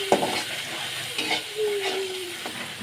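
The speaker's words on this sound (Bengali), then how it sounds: "ভালো করে কষানোর পরে একটু জল দিয়ে দিলাম আর একটু ভালো করে কষানোর জন্য।" Curry being sautéed in a pan (kosha) after a splash of water, sizzling and frying steadily with intermittent stirring scrapes, close and moderately loud, no talking.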